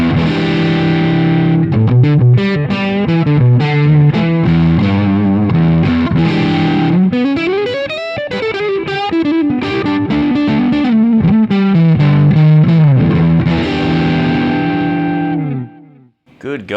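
An electric guitar played through heavy distortion with the drive turned up plays loud, gritty riffs and bends with sustained notes, alone, ending in a brief fade.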